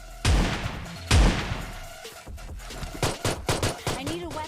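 A shotgun fires in a battle royale video game: two heavy, booming blasts close together, then a quick run of sharper shots and clatter.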